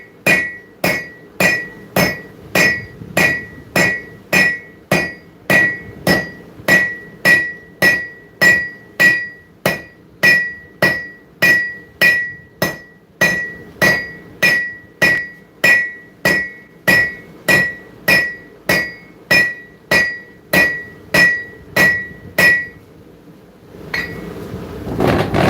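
Steady hammer blows ring out on the horn of an anvil during live forging in a workshop, about two strikes per second, bright and close, continuing for over twenty seconds before stopping.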